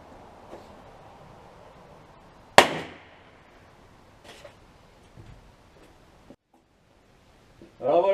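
A .38 revolver fires a single sharp, loud shot at a sheet of paper, the blast ringing out and decaying over about half a second, followed by faint handling clicks and a voice starting near the end.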